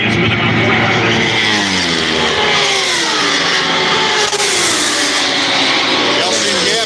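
Racing motorcycles scream through the tri-oval at the Daytona 200, engines climbing and falling in pitch as bikes pass, loud and continuous, with a commentator's voice running over the top.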